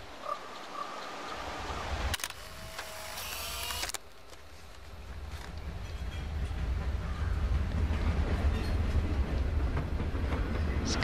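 A train rumbling past in the Life is Strange video game, a low steady rolling roar that builds louder over several seconds, heard alone against an outdoor backdrop.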